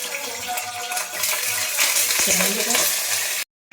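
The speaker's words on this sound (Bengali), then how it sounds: "ফোড়নগুলো আমার হয়ে গেছে ভাজা" Whole spices, a Bengali five-spice tempering, sizzle and crackle in hot oil in a wok, loud and close, with faint clinks of a utensil, before the sound stops suddenly.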